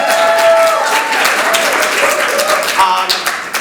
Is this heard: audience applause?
yes